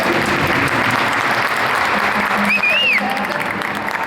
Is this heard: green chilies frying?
no